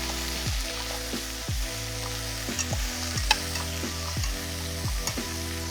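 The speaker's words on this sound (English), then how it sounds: "We're gonna cook this for about 5 minutes on medium heat until the vegetables become soft" Vegetables for a ribollita stew with sausage, beans and greens cook in a pot over medium heat, sizzling steadily up close while a utensil stirs and scrapes in repeated rhythmic strokes.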